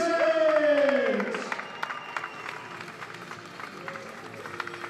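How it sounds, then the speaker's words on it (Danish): Spectators cheer and applaud at the finish of the Royal Run one-mile race, a broad crowd roar with scattered claps that swells early and then settles into steady applause, with a voice rising briefly over it at the start. "jeg skal bare høre publikum, der skal have fuld fart på, mine damer og herrer"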